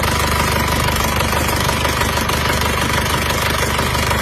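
Cold car engine with heavy blow-by and a worn block idling nearby, a dense, continuous rough rumble with steady knocking pulses and no talk.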